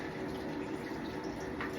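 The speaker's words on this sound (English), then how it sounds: "Now, I'm going to let all this gross water out." Dirty water from washing show chickens drains out of a tub in a steady, quiet, gurgling flow with no voices.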